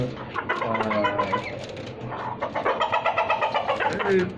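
Desi hens kept in cages on a small Bangladeshi poultry farm cluck in short, repeated bursts close by, with the clucking growing into a quick rhythmic run toward the end.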